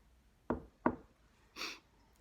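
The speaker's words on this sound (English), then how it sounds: "he crept up to the door and knocked" Two sharp knocks on a cottage door in quick succession, close and clear, followed by a brief rustling burst, with no voices.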